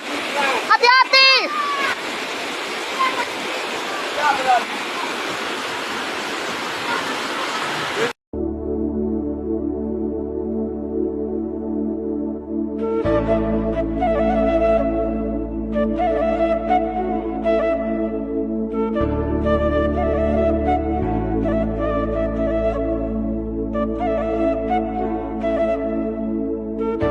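Rushing flash-flood water roars loudly for about eight seconds during an Indonesian flood disaster, with voices mixed in. Music then plays for the rest of the clip.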